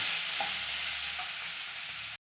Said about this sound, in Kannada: ಇವಾಗ ಕಾಯಿ ತುರಿ ಹಾಕ್ತಾ ಇದ್ದೀನಿ ಇದನ್ನು ಒಂದು ನಿಮಿಷ ಫ್ರೈ ಮಾಡ್ತಾನೆ